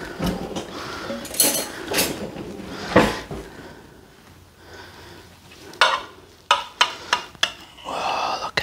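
A knife slicing cooked beef brisket on a board produces scattered cuts, soft scrapes and several sharp knocks toward the end, close and moderately loud, with no talking.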